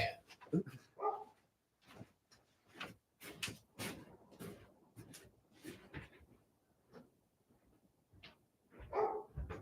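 A dog barks indoors in repeated short, sharp bursts at moderate distance, mixed with a few door or cupboard knocks.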